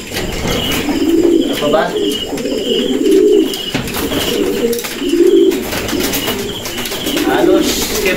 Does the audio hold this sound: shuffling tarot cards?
no